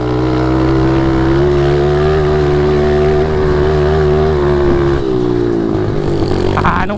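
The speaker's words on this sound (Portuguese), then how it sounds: "Ah, não falha a mini moto, não falha agora." Mini motorbike engine revving steadily on a dirt trail, a loud close buzzing drone with wavering pitch that dips as power fades near the end.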